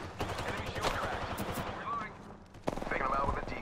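Rapid bursts of gunfire from an arena shooter game crackle in quick volleys, some close and sharp, mixed with game voices and effects talking over the action.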